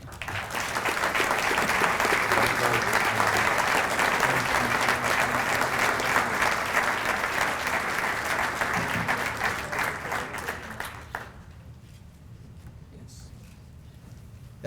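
Audience at a 2013 police services awards ceremony giving a round of applause to field training officers, dense steady clapping from many hands for about eleven seconds before it stops abruptly into near silence.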